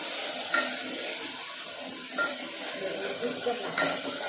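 Onion frying in a pan with a steady, moderate sizzle, stirred now and then, with a few brief scrapes of a spoon rising above the hiss.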